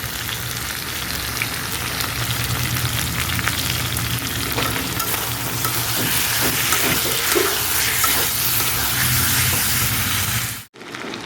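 Chicken curry with pointed gourd sizzles loudly in a pan as fried potatoes, salt and coriander powder are stirred in: a steady, dense frying hiss with scraping stir strokes, ending in a brief dropout.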